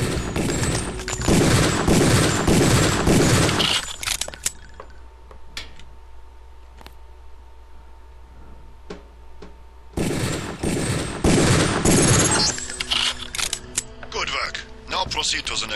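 Gunfire at a target practice range in the video game Deus Ex, bursts of rapid shots in two loud stretches separated by a quieter gap with scattered single clicks and ticks.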